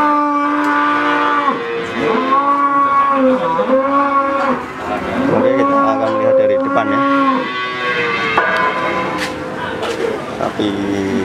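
A female cow, held for a pregnancy check, lets out long, drawn-out moos one after another, loud and close, with rising and falling pitch.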